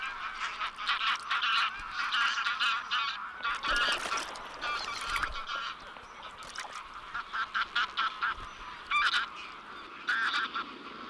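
Many geese honk loudly and continuously in a noisy flock, overlapping calls with bursts of flapping and scuffling close by.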